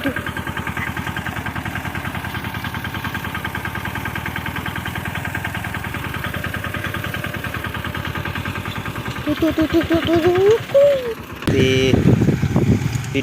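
A mini tractor engine idles steadily in a farm field during chickpea sowing, its low, even throb continuous and fairly close, growing rougher and louder toward the end with a brief disturbance.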